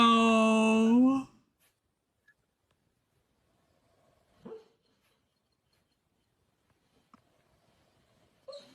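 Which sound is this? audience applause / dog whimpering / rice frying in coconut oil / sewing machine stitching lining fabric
dog whimpering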